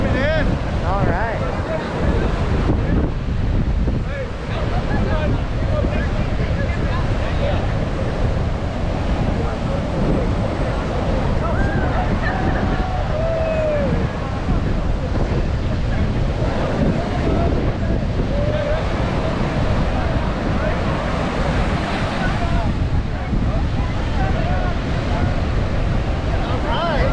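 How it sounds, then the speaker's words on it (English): Ocean waves wash onto the shore near a pier in Los Angeles, a continuous loud rush of surf under heavy wind buffeting the microphone, with no clear breaks between swells. "Tide's coming in."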